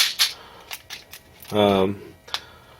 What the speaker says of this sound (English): I mean to prime this case, you take a small pistol primer